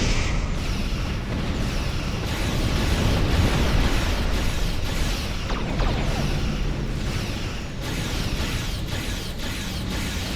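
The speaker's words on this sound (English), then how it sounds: "Oh boy, they're firing at me now." Enemy ships fire weapons in Star Trek Online, a dense, continuous barrage of mechanical pops and bursts running steadily throughout.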